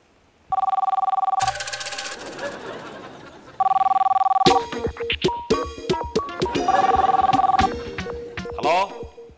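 A telephone in an excise office rings in three loud, close bursts of trilling bell tone, with people talking and other room sounds in the gaps between rings.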